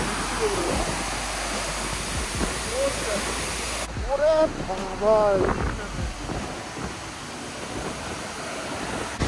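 Water pours out beneath the dam at Bhandardara, a steady broadband rush that holds through the whole stretch while a voice talks intermittently over it.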